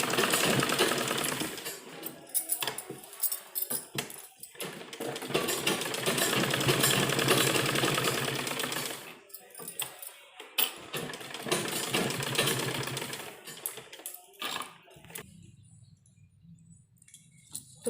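Sewing machine running in long steady bursts as it stitches reinforcing seams over a design on the back of a kurta, close and loud, with short pauses between runs and a quiet stretch near the end.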